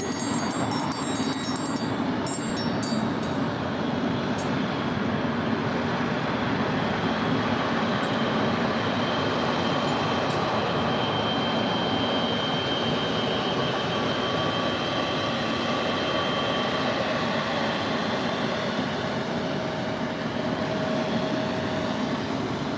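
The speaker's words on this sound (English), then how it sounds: "this is a Kaleta Air 777" A Kalitta Air Boeing 777 taxiing at LAX gives a steady, loud broadband engine roar that holds evenly throughout, with a faint whine above it and no voices.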